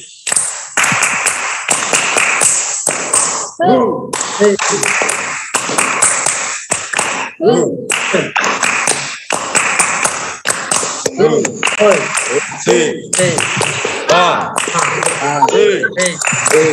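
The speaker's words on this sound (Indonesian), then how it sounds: "Yuk, bersama-sama. Tepuk simari." A uniformed cadet group performs a rhythmic Tepuk clapping chant in unison, sharp synchronized hand claps in bursts alternating with loud chanted voices, close and energetic throughout.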